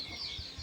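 Sick poultry suffering from a cold and Ranikhet disease cluck softly on a farm, a few brief, faint, low calls close by with no talking.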